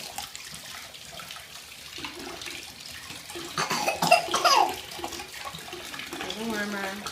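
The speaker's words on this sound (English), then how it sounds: "So much fun filling the container with cold water." Cold tap water runs into a container for a dog's bath, a steady close splashing rush that swells in the middle, with a cough and other small noises mixed in.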